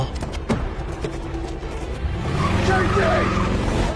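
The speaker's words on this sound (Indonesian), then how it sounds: "Dan mengejar Ro yang lari sementara Jedi mengejar Matty naik mobil." Car chase: a car's engine revs and rises in pitch, with brief squeals and thumps early on, then building to a sustained roar toward the end.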